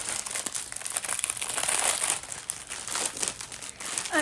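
Plastic packaging of diamond painting drills is cut open with scissors, producing continuous close crinkling and crackling of thin plastic throughout, fairly loud and without speech.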